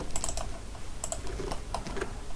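Fast typing on a computer keyboard while writing Python code, a close, crisp run of irregular key clicks and clacks with no voice.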